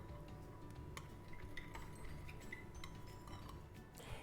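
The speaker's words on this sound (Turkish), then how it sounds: "Şimdi ikisini birbirine karıştırarak ganajımı da tam böyle krema kıvamına getiriyorum." A spoon stirs melted chocolate and cream into ganache in a bowl, with faint, quiet clinks and scrapes of utensil on dish, scattered and irregular.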